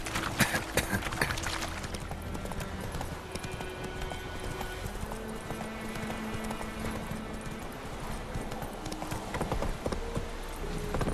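Roach, the horse in The Witcher 3, gallops with steady, rapid clip-clop hoofbeats that carry on throughout, close and continuous under ambient game sounds.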